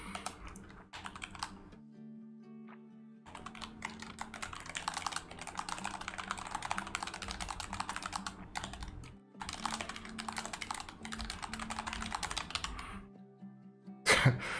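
Bursts of computer keyboard typing during a livestreamed $500 gaming PC build, close and brisk, with short pauses between runs and a low steady hum underneath.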